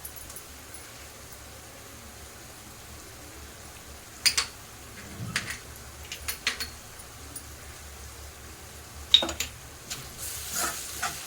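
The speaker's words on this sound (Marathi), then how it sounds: "चांगलं असं परतून घ्यायचं एकजीव करायचं सर्व हे बघा व्यवस्थित मसाले परतले आहे" Ginger-garlic paste and spices are sautéed in a pan for a potato curry, with a low steady sizzle broken by a few scraping spoon strokes.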